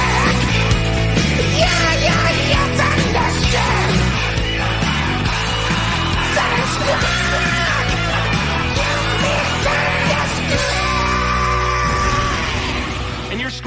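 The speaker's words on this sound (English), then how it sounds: "And you're screaming." An awards-show audience in Hollywood yells and whoops loudly and continuously, mixed with shouted voices and clattering noise over the whole span.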